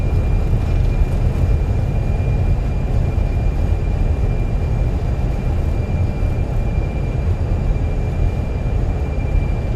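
Airbus A320 landing with thrust reversers in Microsoft Flight Simulator, a loud, steady broadband engine roar that holds constant throughout with a faint high whine above it and no talk.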